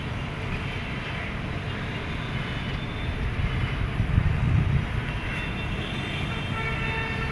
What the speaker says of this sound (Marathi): हे बघा प्लेन उतरतं आहे